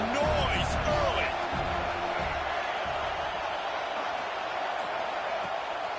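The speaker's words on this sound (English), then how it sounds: "This crowd bringing the energy and noise early." Dense, steady roar of a large stadium crowd at a football game, loud and continuous with a swelling burst of cheering near the start and constant broadband noise throughout.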